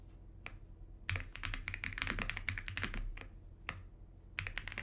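Rapid clicking of computer keys in a burst of typing, with a couple of isolated keystrokes before and after, close and fairly loud against a quiet room during a physics class.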